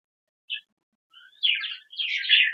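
Cockatiel chicks in a nest pot give a short faint chirp, then a couple of longer raspy chirping bursts, close and isolated against silence.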